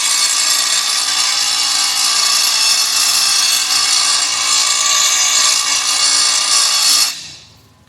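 A power tool sharpens the edge of a steel lawn mower blade, giving a loud, steady, hissing grind that runs unbroken for about seven seconds before cutting off abruptly and fading into quiet. No voices.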